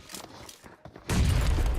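A burst of rapid gunfire from the PUBG Mobile battle royale game erupts loudly about halfway through, sustained and dense after quieter scattered shots and faint footsteps.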